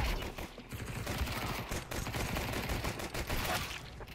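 Rapid, dense automatic gunfire in a competitive shooter game, continuous and loud throughout, with short bursts layered over each other.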